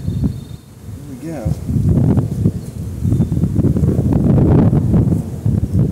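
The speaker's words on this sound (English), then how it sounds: "Wind's really picking up here." Wind buffets a microphone outdoors at a beehive while a nucleus colony is installed, a loud rumbling roar that swells and gusts throughout, with a brief voice-like sound early on.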